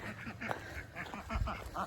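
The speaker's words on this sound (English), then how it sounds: "They're always greeting me, quacking away." Several ducks quack in a yard, a string of short nasal calls of moderate loudness, some overlapping, heard from a few metres away outdoors.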